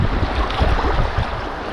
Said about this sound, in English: it's just long continuous class one rapids as far as the eye can see